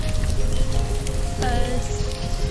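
Steady rain pattering in the city-building game Banished, a continuous dense wash with faint tonal game sounds running underneath.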